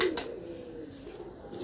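High-flying pigeons coo softly in a brief, faint low call, with a light rustle in the background.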